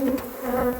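Bees buzz in a close, steady drone that holds evenly for under a second with no other sound.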